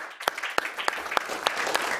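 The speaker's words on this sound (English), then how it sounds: "So a big round of applause for our panel." A conference audience gives a panel a short burst of applause, with a handful of distinct claps spaced across two seconds above a soft crowd wash, fairly close and moderately loud.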